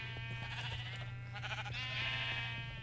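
Sheep of many colours bleat repeatedly in overlapping calls in Minecraft over a steady low electronic hum, with the clean, synthetic quality of game audio.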